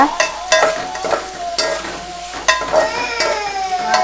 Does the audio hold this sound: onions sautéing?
yes